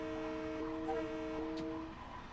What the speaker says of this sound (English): there's a train coming the other way